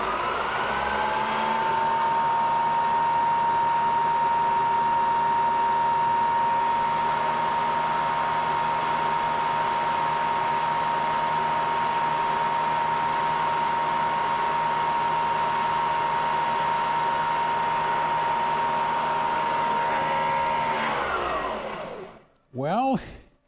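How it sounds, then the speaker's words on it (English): A Tormach PCNC 1100 CNC mill runs at full speed cutting rubber, a steady loud whine holding one pitch for about twenty seconds before spinning down, with a faint voice at the close. "Going to be running at full machine speed, 5 inches per minute, and hopefully the rubber will cut cleanly"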